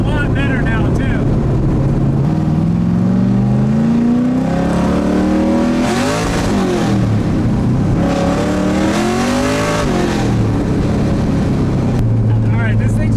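An LS3 V8 swapped into a Mazda Miata runs and accelerates hard, its engine note rising and falling through loud revs that dominate, with a brief voice underneath.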